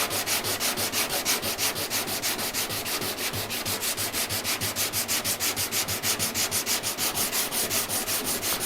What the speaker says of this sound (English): probably just use this soft pad with some 180 grit stuck to it to sand this out